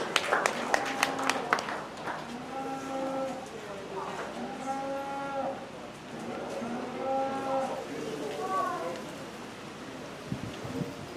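Several cattle moo repeatedly at a 4-H livestock show with purebred dairy steers, drawn-out lowing calls rising and falling at mid distance over a busy show-barn background with scattered clatter.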